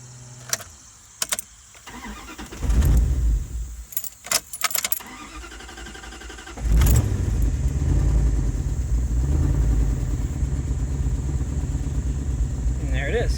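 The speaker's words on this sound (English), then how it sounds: "we're just going to crank up. This will be a cold startup with the Automixer" An Automixer engine cranks over on a cold startup, with metallic clicks and short bursts, then catches and settles into a loud, steady running rumble that continues to the end.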